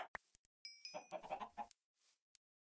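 Several soft clucks come from a chicken in the video game Minecraft, mixed with short blips and game sounds over near silence.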